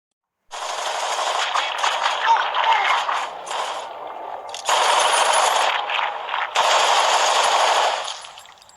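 A dense barrage of rapid automatic gunfire in a film scene, loud and continuous in long bursts with brief breaks between them.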